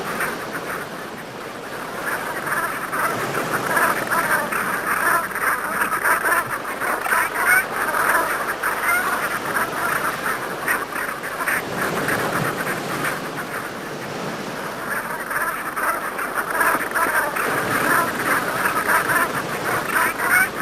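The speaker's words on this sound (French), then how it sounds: "les petites oies animent le ciel d'hiver de leur envol spectaculaire" A large flock of small geese calls continuously on a winter day in Brittany, dense overlapping honks and cackles rising and falling in waves, fairly close and loud with no voices.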